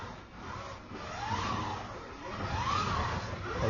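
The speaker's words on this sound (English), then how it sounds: "Car is going around the track." A Scalextric slot car's small motor whirs quietly, its pitch rising and falling in repeated sweeps as it loops around the track.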